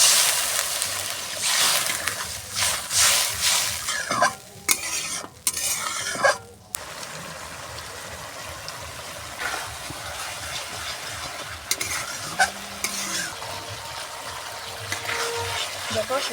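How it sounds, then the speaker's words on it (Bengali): Rajma masala fries and sizzles in a pan as water is poured in, with a steady hiss, stirring scrapes and clinks of a utensil against the pot throughout. "একটু জল দিয়ে দেবো।"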